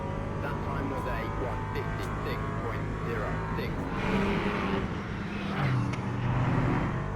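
LMP3 race car engine in the Le Mans Ultimate racing game, a steady loud droning whine with shifting pitch as revs rise and fall, continuous throughout, with someone talking over it.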